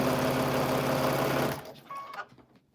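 A sewing machine stitching quilt fabric runs in a fast, even, loud mechanical whir for about a second and a half, then stops, leaving a few faint clicks and handling noises.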